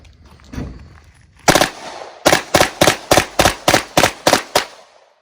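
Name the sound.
Beretta M93R machine pistol firing 3-round bursts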